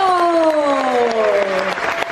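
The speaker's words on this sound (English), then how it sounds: "a huge round of applause for the entire company of Bravo!" Applause from a cruise-ship audience after a stage show, clapping heard under loud music with tonal, sliding chords dominating the short stretch.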